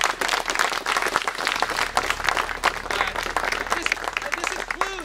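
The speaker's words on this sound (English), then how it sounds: "So, one more round of applause." A crowd at an outdoor trail dedication ceremony gives a lively round of applause, dense overlapping claps close by that hold steady for several seconds.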